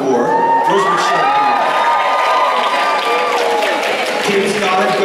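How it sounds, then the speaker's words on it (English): School audience cheering loudly, a dense roar of children shouting, whooping and clapping that stays intense throughout, close and sustained. "It's called Coastal Sunrise, with Kim Gusby, who you should cheer much more loudly for."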